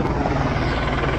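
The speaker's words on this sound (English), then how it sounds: "Oh, it's a police helicopter." Police helicopter overhead, a steady thudding rotor beat with a low droning engine rumble, loud and continuous, no speech.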